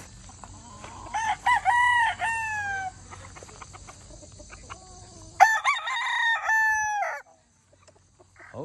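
Roosters crow on a farm where gamecocks are raised, two long drawn-out crows close by with clucking and faint farmyard bustle between them, then quiet at the end.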